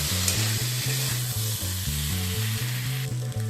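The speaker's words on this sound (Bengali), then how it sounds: "কিছুক্ষণ সময় নিয়ে মশলার সাথে সমস্ত কিছু একটু ভাজা ভাজা করে নিয়েছি" Fish curry ingredients frying with spices in a pan, a loud continuous sizzle up close with a repeating low humming tone running steadily beneath, no talking.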